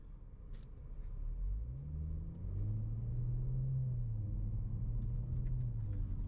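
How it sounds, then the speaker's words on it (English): Low, deep exhaust rumble from a car fitted with a Sport Resonator running in comfort mode, a steady close engine note that swells slightly as it revs, with no talking. "Now, even though it's in comfort mode, the exhaust gives out a pretty nice sound."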